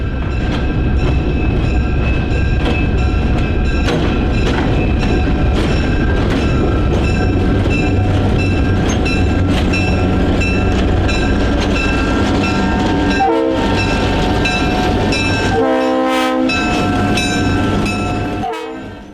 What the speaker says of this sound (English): the short line used 2 Alco S2 switchers for their everyday work